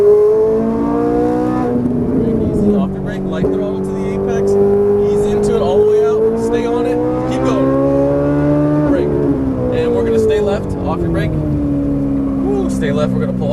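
A Ferrari 458 Italia is driven hard on a race track, its engine climbing through high revs, dropping on downshifts and climbing again, loud and close, with a driving coach talking over it.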